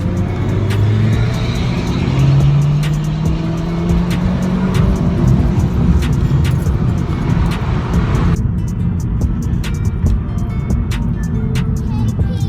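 A Vauxhall VXR engine fitted with a Stage 1 induction kit drones and revs loudly nearby with rising pitch sweeps, a steady rumble underneath, and a faint voice in the background.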